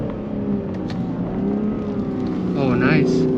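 A BMW M car climbs the winding road up Mt Faber with stability control on, its engine a steady, close drone heard from inside the cabin, rising slightly toward the end as people talk over it.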